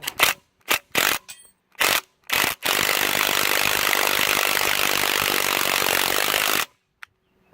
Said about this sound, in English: Let's grab impact gun.